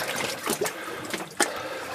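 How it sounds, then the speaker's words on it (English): Water sloshes and splashes with each step while wading about half a meter deep through an underground tunnel, a few distinct swishes over a steady wet background, close and fairly quiet. "Here the water is consistently getting deeper."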